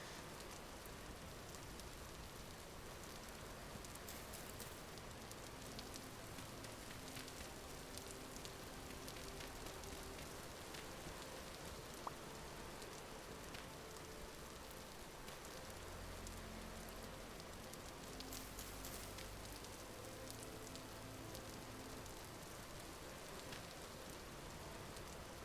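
Rain falls in the video game Vintage Story as a soft, even hiss of drops on surfaces, quiet and unbroken throughout, with no voices over it.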